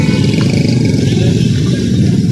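Motorcycles on a busy street at a checkpoint near a Mirpurkhas market, a loud, close, continuous engine drone with rattling traffic clatter and no talk.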